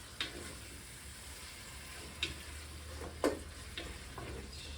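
Rice sizzles and roasts in a pan as a spoon stirs it, a steady frying hiss broken by a few sharp scrapes and clicks, close and moderately quiet with no talking.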